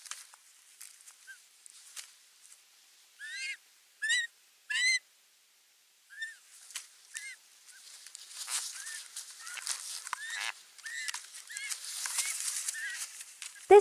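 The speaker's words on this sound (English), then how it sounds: "This bird chick is really angry." An angry bird chick with a full crop gives sharp, rising chirps, first in short spaced bursts, then a rapid, dense, louder stream of overlapping cries near the end.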